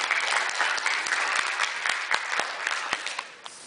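Another round of applause from a fundraiser show audience, a brisk burst of many hands with a few crisp nearby claps, fading off at the end.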